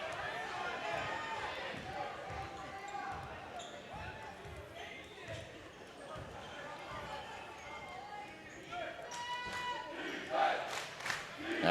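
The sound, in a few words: Wimberley basketball crowd chanting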